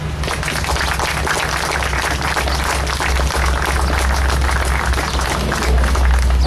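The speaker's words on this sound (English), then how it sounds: "I'm pleased at that applause" Audience applause at a Victims of Communism event, a dense, continuous roar of clapping filling the room, loud and steady, swelling slightly toward the end with a low hum beneath.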